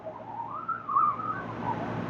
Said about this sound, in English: Just medium pressure, enough to get a nice little whistle, and about a 2-second stroke.